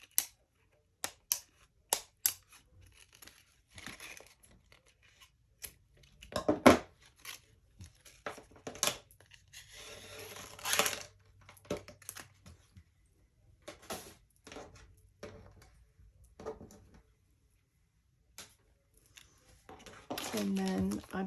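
Scissors snip and tear plastic packaging away from a Mardi Gras mask, giving a series of sharp close cuts and crinkles with pauses between them and a longer rustle near the middle, with no talk over it.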